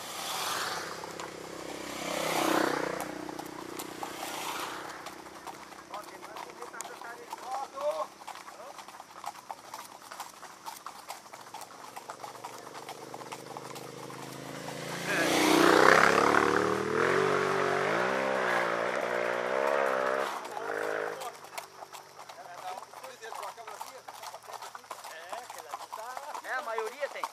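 Horses' hooves clip-clop steadily through a countryside cavalcade ride in Santo Amaro da Imperatriz, Brazil, with motorcyclists passing nearby; people talk throughout, and a louder surge of riding and engine noise swells midway.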